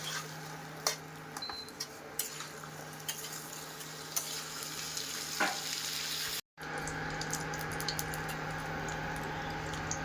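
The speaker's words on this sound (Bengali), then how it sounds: "আলু আর সিমলা মির্চটা একসাথে ভেজে নেব।" Potato and capsicum frying together in a pan, a steady crackling sizzle with scattered clicks of a spatula, continuous and close, with a brief dropout midway.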